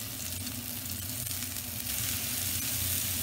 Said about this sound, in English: we'll add our meatballs straight in